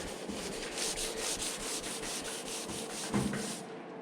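Rhythmic back-and-forth hand sanding of a painted Lambretta GP scooter side panel, a steady gritty scratching in close, even strokes throughout, no talk.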